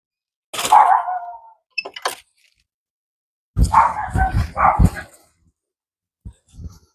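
Dogs at an outdoor allotment give several bursts of barking, close and fairly loud, separated by quiet gaps, with a short quieter yip near the end.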